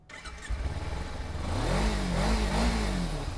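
A black two-cylinder sport motorcycle engine revving up from idle, rising and falling in pitch over a few throttle blips, loud and close with no talk.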